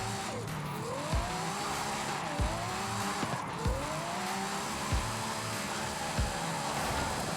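A McLaren 720S Spider races in Forza Horizon 5, its engine loudly climbing through the revs again and again with about five quick upshifts in steady rhythm. The engine sounds alone, with no voices.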